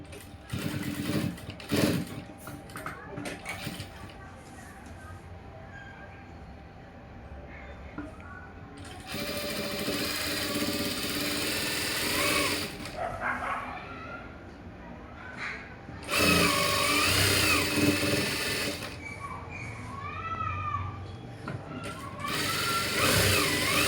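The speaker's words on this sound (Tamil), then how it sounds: "இதுவே அப்படியே திரும்பவும் நம்ம மடக்கி தைக்க போகிறோம்" A sewing machine stitches the folded edge of a blouse in a few loud, sustained runs separated by quieter stretches where a voice talks.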